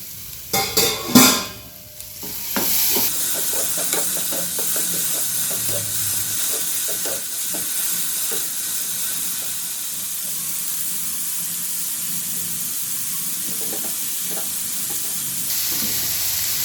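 Chopped tomato sautéing in a pan for momo chutney: a few clattering stir knocks at first, then a steady close sizzling hiss that carries on with light scrapes throughout.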